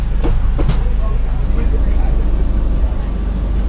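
Aboard an express train to Prachuap Khiri Khan, Thailand, a loud steady low rumble of the moving carriage fills the air, with a couple of brief knocks early on.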